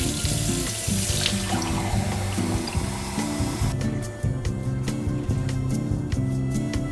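Hot water pours steadily from a kitchen tap while making homemade pizza dough, a continuous close hiss and splash with low rhythmic tones underneath.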